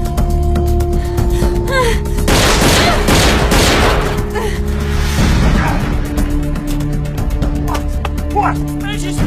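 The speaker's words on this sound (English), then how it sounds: "Man, she's firing at us!" Movie-scene gunfire bursts out as a loud rapid fusillade in the middle, with scattered sharp shots and booms around it over a constant dramatic backdrop, close and dense.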